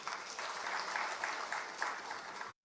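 Audience applause at a business launch event for a credit score service in Ghana, a steady dense wash of many hands clapping at moderate distance, holding evenly for over two seconds before cutting off abruptly.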